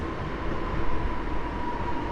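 An SKM suburban train on line S40 toward Piaseczno rolls past near Warszawa Służewiec, a steady, continuous rumble of wheels and cars at close range without any break.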